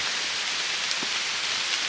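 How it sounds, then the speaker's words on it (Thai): Steady rain patters on the leaves of a bamboo grove on a mountain trail in Sukhothai, a dense, even hiss filling the whole stretch with a few slightly louder drops standing out, and no voices. "ฝนตก ฮะ อันนี้ อยู่ในดงไผ่ อยู่ในกอไผ่ใต้กอไผ่"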